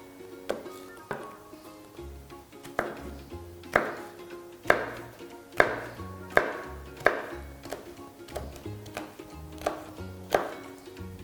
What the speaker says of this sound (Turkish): ayıklıyoruz ve çok iri olmayacak şekilde doğruyoruz